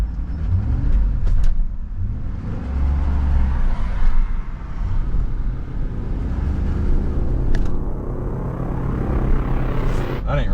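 A car sitting in drive at a red light, stuck and refusing to move, its engine running with a steady low rumble throughout, while a person talks over it.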